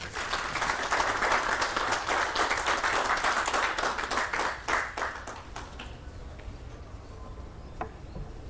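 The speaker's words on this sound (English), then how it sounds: "Please join me with a round of applause" Audience applause at a South African Navy media briefing, a dense steady round of clapping for several seconds that thins out and fades to scattered claps near the end.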